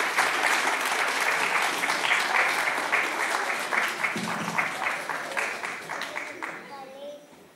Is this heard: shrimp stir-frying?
no